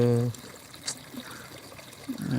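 Water poured onto marigold plants on a farm, a soft trickling and splashing that runs steadily under a low outdoor background, with a voice briefly heard at the start and end.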